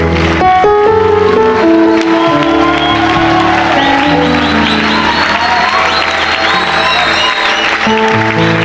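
Loud, continuous applause and cheering from a church congregation, steady and dense throughout, mixed with music and voices.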